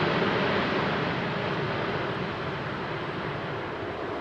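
An Emirates Airbus A380 climbs away during a go-around at Heathrow, producing a loud, constant broadband jet engine roar that fades slightly over the seconds.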